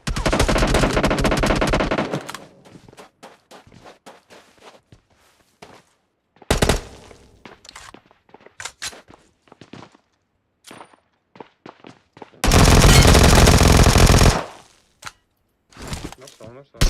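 Bursts of automatic gunfire in PUBG Mobile, loud dense volleys of a couple of seconds each separated by quieter stretches with sparse clicks and scattered single shots.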